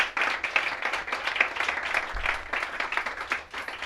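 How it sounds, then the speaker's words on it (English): A crowd at a Nerd Nite Tokyo talk applauding the speakers steadily, dense clapping from many hands that rises and fades slightly over a few seconds, with no talking. "Get a big round of applause for those guys."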